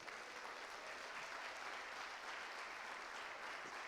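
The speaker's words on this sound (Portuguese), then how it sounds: "Pode aplaudir o Senhor?" A church congregation at a revival conference claps steadily as a dense, even wash of applause, quite faint and distant, lasting throughout without pause.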